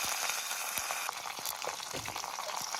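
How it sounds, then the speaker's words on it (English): Dry red chilies, mustard seeds, cumin and curry leaves crackling in hot oil for a curd rice tempering, a busy sizzle with sharp pops and spits, close and continuous. "After the oil is heated, I'm going to add 3 dry red chilies, 1 tablespoon of mustard seeds, 1 tablespoon of jeera and handful of curry leaves"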